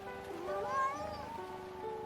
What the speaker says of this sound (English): The nameless cat jumped into her arms.